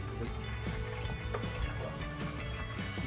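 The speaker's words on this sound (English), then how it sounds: "You hear it dripping through." Water drips and trickles through a Berkey Travel gravity water filter, a steady soft patter of small drops close by with a faint background hiss, no voices.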